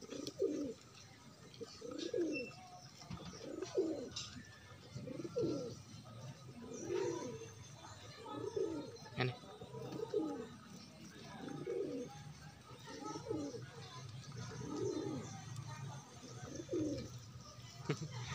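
Domestic pigeons coo in a steady series of soft, rounded calls roughly every one to two seconds, fairly close in a quiet setting with faint background noise.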